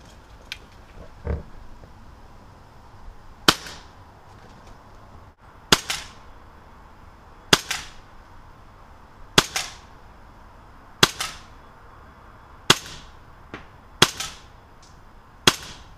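A Colt MK IV Cybergun CO2 airsoft pistol fires eight sharp, loud cracks at irregular intervals of roughly two seconds, each a crisp snap with a short tail, over a quiet outdoor background with no talking.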